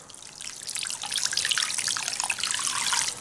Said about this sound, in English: And then what I'm going to do is add 2 cups of additional water.